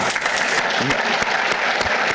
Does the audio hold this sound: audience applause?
yes